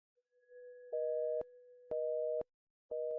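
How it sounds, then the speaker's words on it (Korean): An unanswered phone call gives a busy signal: three evenly spaced electronic beeps, each about half a second long, clear and steady against silence. "도련님은 여전히 전화를 받지 않네."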